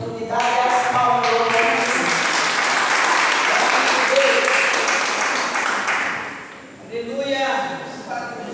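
Loud, dense applause from a church congregation during a healing and deliverance service, sustained for several seconds with voices ringing through before and after, then tapering off as singing or speech returns.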